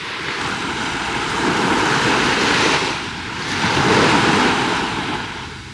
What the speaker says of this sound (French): comme on est en bord de mer, il y a beaucoup de vent aujourd'hui